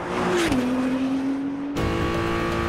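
Engine of a 2022 Acura NSX Type S heard from inside the cabin, a steady loud drone with a smooth pitch drop early on, then a sharp change partway through as the engine note continues strongly to the end.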